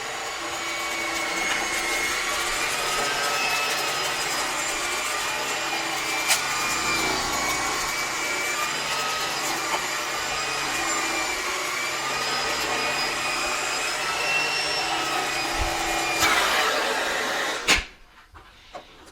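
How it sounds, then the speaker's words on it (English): A repaired Turbo Cat central vacuum turbo head runs with a steady, close, whining roar for about seventeen seconds, then cuts off sharply. "See, that turbo kit is working how it should."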